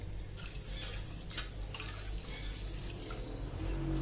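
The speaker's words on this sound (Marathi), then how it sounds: "ही डाळ ना स्वच्छ धुवून घ्यायची आता दोन तीन पाण्याने चांगली अशी" Mixed dal lentils rinsed in water for cooking, with soft sloshing, faint drips and light ticking sounds, close but quiet.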